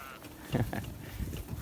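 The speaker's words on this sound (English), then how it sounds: "Sheep. Just called out." A sheep on a farm bleats a short wavering call, moderately near, among other livestock noise and outdoor background.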